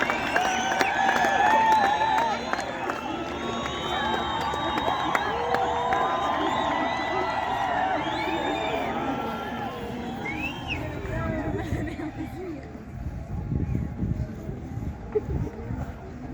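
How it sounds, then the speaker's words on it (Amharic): A large crusade crowd cheers, claps and ululates loudly in one continuous wave of sustained applause and shrill trilling, with voices woven through the noise. "እልልታችሁን ጭብጨባችሁን ከፍ አድርጉ፣ ለጌታ ክብር ስጡት።"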